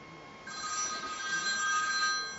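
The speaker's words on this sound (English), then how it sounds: "Oh, Louise, you're ringing me at the wrong time." A telephone rings indoors, a bright electronic ringtone warbling steadily over a soft background hum, close and fairly loud, with no talking.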